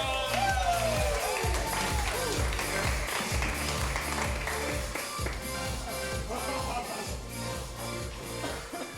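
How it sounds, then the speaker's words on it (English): Crowd at an evening fight event cheering and clapping for a group coming to the stage, sustained applause and shouts layered over loud thumping music. "Give a big, nice, warm round of applause to Classic Tominaga"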